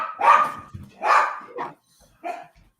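A dog barks three times in quick succession, fairly close, then gives one more softer bark after a short pause, with no talking.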